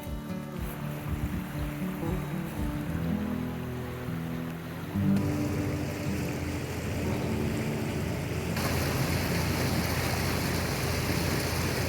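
Water rushes and churns steadily as forward lock gates are cracked open, a continuous broadband wash that swells louder partway through and holds near and full, with no talk over it.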